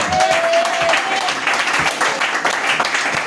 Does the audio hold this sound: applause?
yes